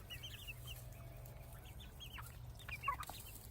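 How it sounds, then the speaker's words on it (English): Several black, brown and white chickens, including a buff Orpington, cluck and chirp softly in short scattered calls over low background hum, one call near the end slightly louder. "We have 3 black, brown, and white chickens."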